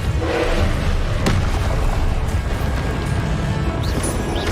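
Confringo explosive spell blasts in Hogwarts Legacy on PS5: loud, dense, continuous rumbling booms with crashing debris, filling the whole stretch close up without a pause.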